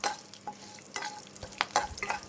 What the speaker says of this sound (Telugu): ఈ పోపుని మనం ఇలా కలుపుతూ పక్కన పెట్టుకున్నాక